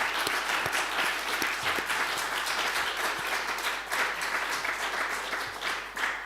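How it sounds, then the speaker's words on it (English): Conference audience at a cancer forum applauds steadily, a dense, sustained wash of clapping hands filling the room without letup for several seconds, no voices standing out. "let's give them all a round of applause."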